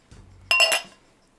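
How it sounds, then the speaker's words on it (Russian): A single light metallic clink and short scrape, like a fork set down and slid on a tabletop, close and brief. "Так, вилку подальше уберем."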